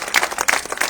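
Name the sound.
applause for hospital staff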